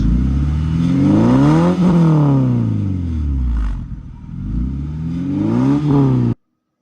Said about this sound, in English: Let us hear the exhaust.